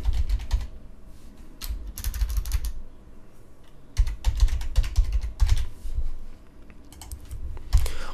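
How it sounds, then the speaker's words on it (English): Text typed on a computer keyboard for an Adobe After Effects title, close clattering keystrokes in uneven bursts separated by brief pauses, with no talk. "We type in whatever we want."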